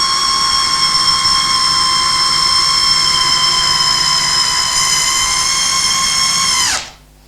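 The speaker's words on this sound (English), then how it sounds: "I've got this on speed 1 on the maximum torque setting, and I'm going all the way through this." A Festool PDC 18/4 cordless percussion drill driver set to speed 1 at maximum torque drives a screw all the way through. A loud, steady whine runs close and unbroken for about seven seconds, then winds down sharply as the motor stops.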